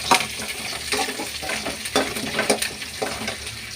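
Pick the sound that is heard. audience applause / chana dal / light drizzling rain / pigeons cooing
chana dal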